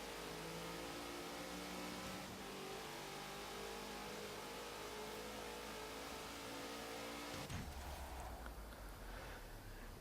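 Engine of a Hoonigan car driven in Forza Horizon 3 on a wet road, a steady mid-pitched drone with rising rev tones, then a sudden lower, rougher shift near the end, loud throughout with no talking.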